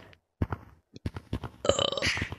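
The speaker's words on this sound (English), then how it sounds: "That was a little baby burp I just did." A person lets out a burp, a short guttural belch among brief bursts of mouth noise and breathy sounds, close to the microphone with no clear talking.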